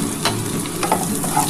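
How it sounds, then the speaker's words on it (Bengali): Onion and green chilli frying in a pan with garlic, Bengali-style, ahead of red amaranth greens: a steady close sizzle with scraping stirs, no voices. "দেখো বন্ধুরা, এই যে পেঁয়াজ আর কাঁচা লঙ্কাটাও দিয়ে দিলাম।"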